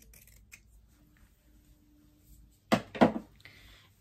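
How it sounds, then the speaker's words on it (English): A couple of close, crisp pinking shear snips cutting through shirt fabric after a quiet stretch with faint handling noise. "From notch to notch, you can just trim some of the fabric."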